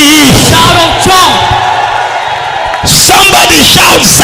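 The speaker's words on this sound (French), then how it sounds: "Poussez les cris. Shout of joy." A church congregation shouts and whoops for joy in loud bursts of crowd cheering, with a brief lull before the shouting surges again.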